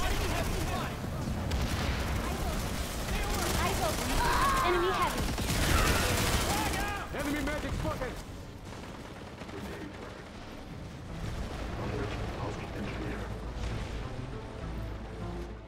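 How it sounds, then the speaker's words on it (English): Frag grenade blast and rapid gunfire in the Planetside 2 shooter game, loud dense bursts of shots and booms over the first eight seconds, then a quieter stretch of distant combat noise with faint voices. "Tossing a frag!"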